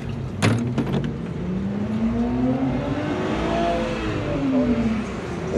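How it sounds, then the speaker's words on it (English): Car passing on a road with an engine note rising and sweeping in pitch as it accelerates, steady moderately loud road noise throughout, no talking. "There's people driving their cars thinking they're race cars."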